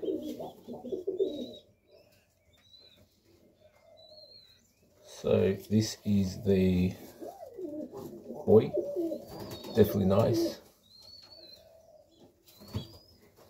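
Serbian highflyer pigeons coo in low, rolling bursts with occasional wing flaps and faint chirps, close by, while someone talks between and over the calls.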